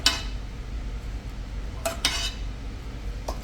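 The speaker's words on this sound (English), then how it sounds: "Go ahead and give it a good stir" A spoon stirring hot barbecue sauce into braised pulled pork, giving a few soft scrapes and clinks over a quiet steady background, without talking.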